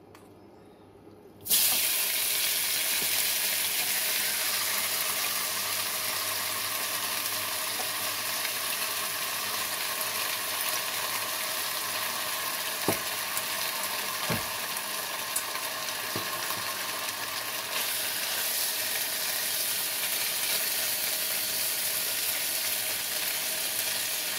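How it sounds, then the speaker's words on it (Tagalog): Chicken wings for adobo fry in hot oil until the skin turns golden brown, a dense, steady, close sizzle that starts abruptly after a brief quiet moment and continues without speech, with a few faint clinks. "Priniprito ko muna yung chicken wings para mag-golden brown yung kanyang balat."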